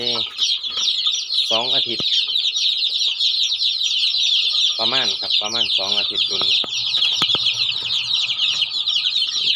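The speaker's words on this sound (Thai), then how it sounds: "ไก่" Baby chicks about two weeks old in a small mosquito-proof nursery cage cheep continuously and closely, with a few brief clucks, while someone talks over them at intervals.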